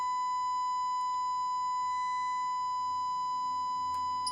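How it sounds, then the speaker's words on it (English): A sine wave test tone fed through a Moonraker FA5000 CB radio holds a steady, pure pitch alongside fainter constant overtones, with a few faint clicks and a low background hum, heard alone at moderate level. "And all I had to do was put a sine wave through and do this."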